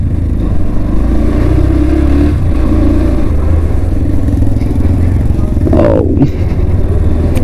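A 125 cc motorcycle rides a mountain road between Manali and Leh, its engine a steady loud drone mixed with wind rumble and rattle throughout, with a short rising rev burst near the end.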